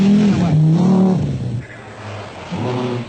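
An Audi Quattro rally car on a special stage of the 1981 Lombard RAC Rally drives through corners, its engine loud and close, the note rising and falling as it revs, eases off and picks up again.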